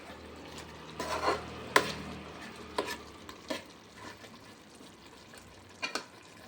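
Chicken for lemon chicken cooking in a pan, releasing its juices, with a soft steady sizzle and a few sharp stirring clinks and scrapes.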